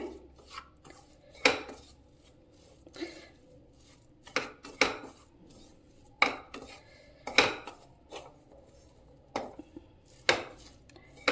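A spoon clinks and scrapes against a bowl as cooled masala is mixed with chopped green coriander for a palak veg khoa samosa filling, with irregular sharp knocks and softer rubbing strokes, close and quiet between hits.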